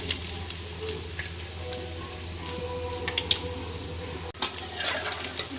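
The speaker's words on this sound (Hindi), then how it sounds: "ऑयल हमारा गर्म हो चुका है। हम इसमें पकौड़े शामिल करेंगे।" Spicy aloo palak pakoras frying in hot oil, a continuous crackling sizzle with scattered pops and a brief thump near the end, close by and without speech.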